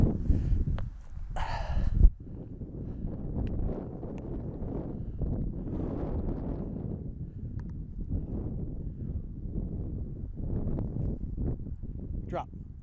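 Steady headwind buffets the microphone on the Wolf Hill disc golf course, a continuous low rumbling roar that runs the whole time, with a brief louder gust near the start.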